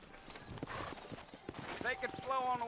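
Hooves clip-clop on a dirt street in the western video game Red Dead Redemption, quiet repeated steps as a horse leaves town, with game voices talking over them and a brief whinny near the end.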